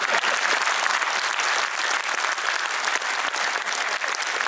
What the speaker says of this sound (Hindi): ताली मारिए तो जोर से मारिए ना।